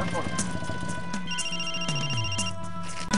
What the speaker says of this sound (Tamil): ஃபோன் தான்டா ரிங் ஆகுது.